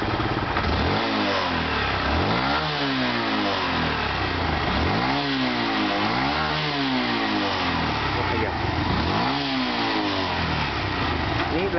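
A car engine fitted with an aftermarket throttle accelerator box revs repeatedly, rising and falling in about four swells over a steady loud idle.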